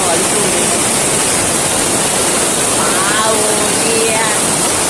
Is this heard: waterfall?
yes